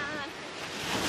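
Ocean surf rolls onto a beach in Hawaii as a steady, broad wash of waves, with wind buffeting the microphone throughout.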